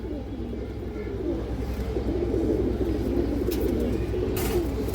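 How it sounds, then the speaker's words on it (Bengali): Female pigeon cooing among a flock of pigeons kept for sale, with a steady low murmur of soft coos running continuously throughout, close and moderately loud. "খুব সুন্দর একটা মাদি কবুতর"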